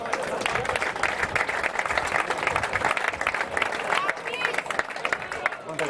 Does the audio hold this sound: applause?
yes